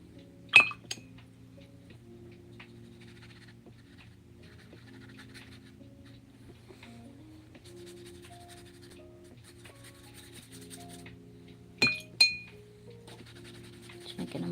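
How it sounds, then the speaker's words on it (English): A paintbrush rinsed in a water glass during mixed-media painting, with two short clear clinks of the brush against the glass near the start and again near the end, and a quiet steady hum between. "Rinse my brush"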